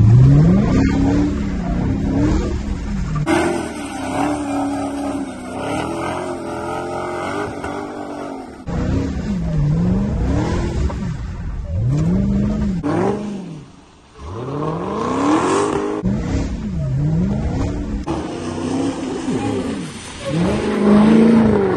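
Dodge Hellcat cars drifting and doing donuts at a zoo, supercharged engines loud and close, revving hard in repeated rising and falling sweeps with tire squeal, no talking.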